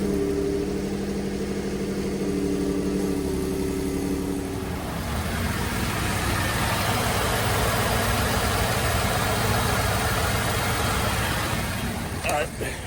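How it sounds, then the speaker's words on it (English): A Ford F-150 pickup engine cranks and catches, then settles into a steady, loud idle that continues after a fresh oil change with a Fumoto drain valve fitted. "So I'm gonna crank it up real quick and make sure it's not leaking anywhere."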